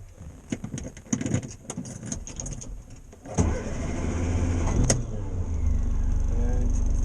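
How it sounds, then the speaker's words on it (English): A Morris Minor's engine cranks and catches amid clicks and rattles inside the car, then settles into a steady, close, droning idle, with no talking. "Right, it's getting fired up."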